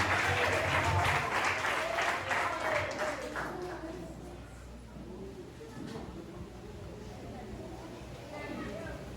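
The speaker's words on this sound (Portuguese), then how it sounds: "Você pode aplaudir o Senhor nesta noite" A church congregation applauds the Lord during an evening service, a dense wash of clapping from many hands that is strongest at first and then gradually thins and fades beneath a steady room hum.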